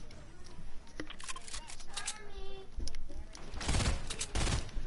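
Bursts of rapid gunfire in an online shooter game, sharp clustered shots and fusillades at moderate distance, mixed with players talking.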